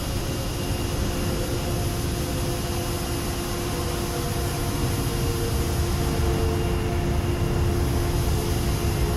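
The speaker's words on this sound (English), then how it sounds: "There's China taxiing out at the moment as well, with an ITA landing in the background" Steady jet engine roar from airliners taxiing and landing at Paris CDG in Microsoft Flight Simulator 2020, a loud continuous broadband drone with a faint whine, no voices.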